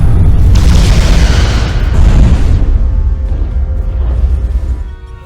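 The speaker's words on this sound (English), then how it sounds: "Fire photon torpedoes." Photon torpedoes fire and detonate in the Star Trek Resurgence video game, a loud deep booming blast with heavy rumbling low end that rolls on for several seconds before fading.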